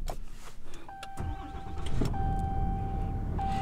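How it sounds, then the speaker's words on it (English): A 2020 RAM 2500 Limited pickup truck starts up: a starter crank and catch, then a steady idle rumble with a chime tone ringing on and off over it, close by. "I'm gonna start this truck up."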